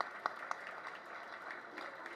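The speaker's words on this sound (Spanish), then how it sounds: "un aplauso también para él" Light applause from a crowd at a closing ceremony for a world surfing competition in El Salvador, a soft continuous patter of clapping with a couple of sharper claps early on, fairly faint.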